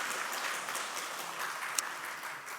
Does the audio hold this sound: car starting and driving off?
no